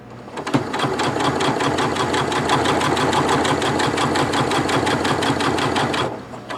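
A Janome MC9900 sewing machine stitches through leather in one loud, continuous run of rapid, even needle strokes lasting about six seconds, starting and stopping abruptly, with no voices.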